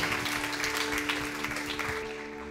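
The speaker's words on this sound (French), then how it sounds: "Est-ce qu'on peut applaudir le roi des rois, le Seigneur des seigneurs dans ce lieu?" A church congregation claps together, a sustained even roll of applause at a middle distance over a steady low tonal hum, easing slightly toward the end.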